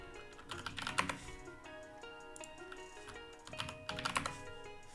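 Typing a command on a computer keyboard: quiet, close clusters of quick plastic key clicks in uneven bursts with short pauses between, no talking.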